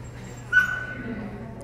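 Small dog giving a brief whimpering yip, close by, under a low background hum in a vehicle.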